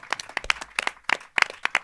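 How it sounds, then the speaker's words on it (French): Sparse, distinct hand claps at the close of a live evening show in a French media library, a handful of close, uneven slaps in quick bursts with short gaps between them. "C'est moi qui applaudis le public cette fois"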